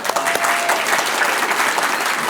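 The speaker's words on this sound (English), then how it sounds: "I would like to give her a round of applause." A luncheon crowd at a chamber of commerce event applauds, sustained clapping from many hands that sounds full and fairly close, with faint talk mixed underneath.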